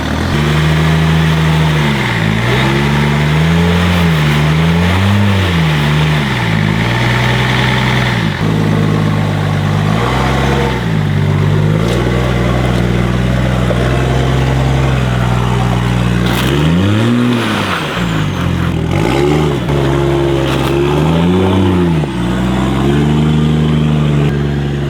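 A 4WD with twin lockers grinds up a wet rock step on a trail, its engine loud and close throughout, revving in repeated surges and dips as the tyres skid and scrabble for grip.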